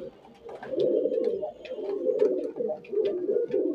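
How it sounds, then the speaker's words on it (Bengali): Pigeons give close, continuous rolling coos, several birds overlapping in a dense, throaty murmur with brief pauses. "দেখুন পায়রার কোয়ালিটি দেখুন"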